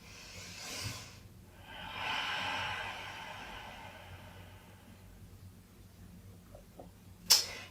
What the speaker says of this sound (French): et respire dans le ventre